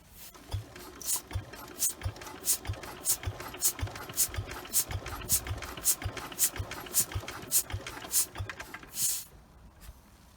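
Lister D engine being turned over by hand for a compression test, giving a run of evenly spaced soft thumps and clicks, near and fairly faint, with one slightly louder chuff near the end.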